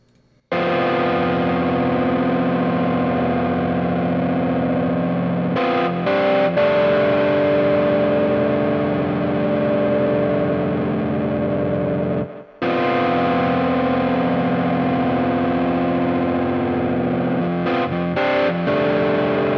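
MIDI part playing sustained chords through a heavily distorted, effects-laden synth or guitar tone, dense and loud, with two brief dropouts midway and short rhythmic stutters, no talking.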